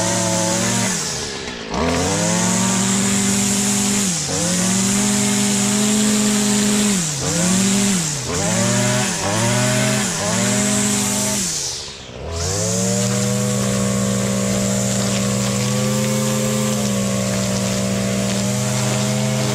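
A Stihl FS 56 RC string trimmer engine runs loud and close, repeatedly surging and dropping as it bogs at full throttle, with a short cut-out midway before steadying to a constant drone.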